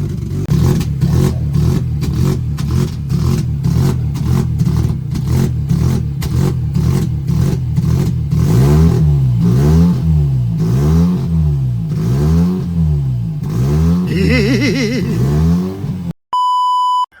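A Mazda RX8 rotary engine, running with no exhaust connected, blats and revs loudly and raggedly at close range, with rising and falling sweeps, and ends in a sharp electronic beep.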